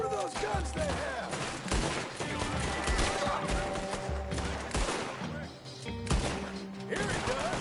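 Rapid gunfire bursts and fusillades from period firearms in Red Dead Redemption 2, dense overlapping shots with crashes and impacts throughout a busy game fight, a voice occasionally talking underneath.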